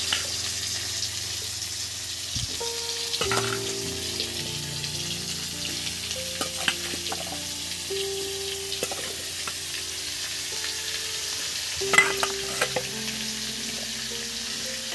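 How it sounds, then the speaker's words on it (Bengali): Potato pieces for aloo posto dropped into hot oil, giving a continuous sizzle with stirring clatter and utensil scrapes throughout, plus a few sharper knocks, fairly close and without talk. "এবার আলুগুলো এই তেলের মধ্যে দিয়ে দিচ্ছি"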